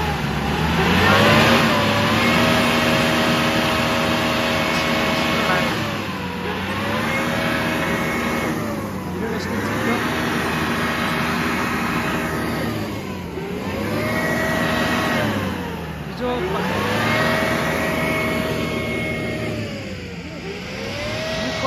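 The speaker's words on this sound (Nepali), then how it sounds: "हिलोमा गाडी फसिरहेको" A vehicle stuck in mud revs its engine repeatedly in loud, rising and falling surges, each climb in pitch followed by a dip, several cycles in a row with no talking.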